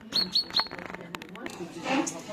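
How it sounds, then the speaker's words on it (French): A large bird calls from trees outdoors, three sharp high chirps near the start followed by softer calls, with people talking nearby. "c'est qui ce gros oiseau qui fait du bruit?"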